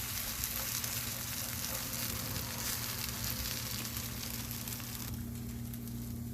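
Cornmeal mush fries over low heat on a Lodge cast iron griddle set on a Camp Chef Explorer stove, giving a quiet, steady sizzle with no talking.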